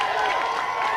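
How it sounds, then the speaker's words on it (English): Applause from a TV studio audience on a 1994 video-game show, a steady dense wash of clapping and crowd noise with no break across the second. "Round of applause again then, Tim and Eddie."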